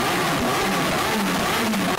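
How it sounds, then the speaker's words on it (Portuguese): Motorcycle engine revving loudly and close, a continuous buzzing drone that rises and falls in pitch over two seconds with no talk. "Já vi o barulho dessa moto."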